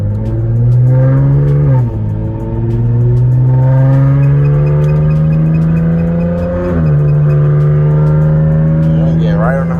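At night a Jeep engine climbs through the gears as it accelerates onto the highway, loud and close, with a rising drone, shift dips and a steady cruising hum.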